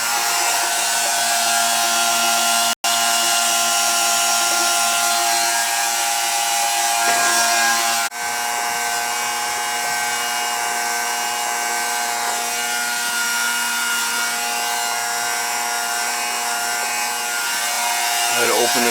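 Handsaw cutting through pipe near the valve of a 40-gallon gas water heater, with steady back-and-forth rasping strokes that stay close and loud, broken by one brief pause.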